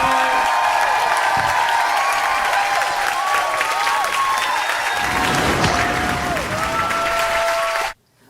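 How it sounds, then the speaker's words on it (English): A comedy show studio audience claps and cheers loudly for a new correspondent, the dense applause and whoops building across several seconds before cutting off abruptly. "Start clapping, make some noise."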